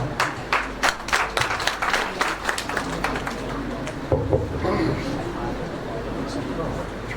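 An audience at a book launch event claps in a burst of loud applause that thins out and fades, with a voice speaking over the last part.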